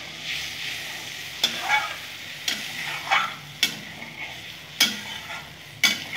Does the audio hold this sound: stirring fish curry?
yes